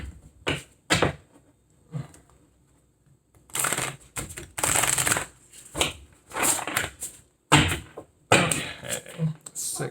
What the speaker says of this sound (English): I'll shuffle these again.